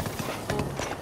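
A horse's hooves clip-clop in the game Zelda: Breath of the Wild, a quick run of light, rhythmic hoof strikes at moderate distance, fairly faint against a soft game background.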